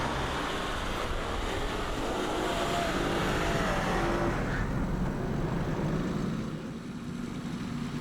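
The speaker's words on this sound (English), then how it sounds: "applying the throttle too sharply can risk the vehicle sliding into a skid, as demonstrated here" Land Rover sliding into a skid on a snowy corner under sharp throttle: a steady, loud engine roar that holds for several seconds and then eases slightly toward the end, with no talk.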